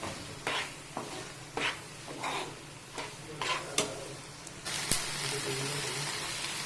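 Tomatoes sautéing in a pan for paneer bhaji give a steady soft sizzle, broken by repeated scraping stirs of a spatula at a regular pace, with the frying hiss swelling louder near the end.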